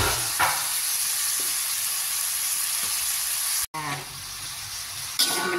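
Chili goes into a hot pan while cooking sponge gourd with glass noodles, giving a steady loud sizzle and frying hiss with brief stirring scrapes, a short cut partway, no speech.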